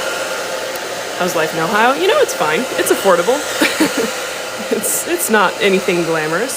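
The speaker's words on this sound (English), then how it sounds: "I think I'll go ahead and grab my hairdryer now" A hair dryer runs steadily throughout as a constant whooshing hum, sitting beneath a woman's ongoing speech.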